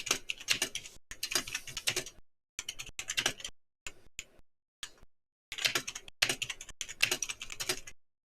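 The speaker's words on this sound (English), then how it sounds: "I'm typing away for a moment." A computer keyboard is typed on in quick bursts of close clicking keystrokes, separated by short silent pauses, loud and clear with no talking.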